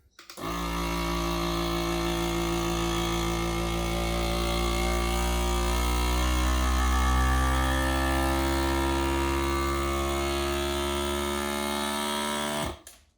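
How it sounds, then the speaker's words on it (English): A vacuum sealer's jar attachment pump hums and whirs steadily for about twelve seconds, drawing air from a jar, with a low droning tone that starts and stops abruptly, no voices. "we're going to be using everybody's favorite gadget, the vacuum sealer jar attachment"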